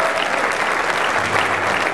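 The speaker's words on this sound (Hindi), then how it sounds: "एक बार आप तालियां बजा दीजिए" Audience applause at a Hindi kavi sammelan poetry event at Firozeshah Kotla, a dense steady burst of many hands clapping, loud and close throughout.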